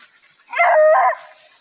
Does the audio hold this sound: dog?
yes